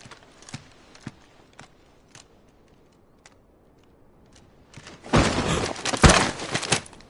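Horse hooves in Final Fantasy XVI give slow, sparse clip-clops in near silence, then a sudden loud, crunching rush of noise takes over near the end.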